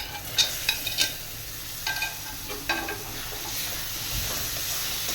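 Onions and tomatoes fry quietly in a pan under a steady soft sizzle, while a spoon stirs them with a few sharp clinks and scrapes.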